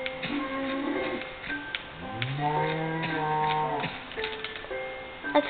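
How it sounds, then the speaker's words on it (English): Minecraft cows give a drawn-out low moo in the middle, with a few shorter game sounds and faint clicks scattered around it under steady background noise. "These are my pet cows."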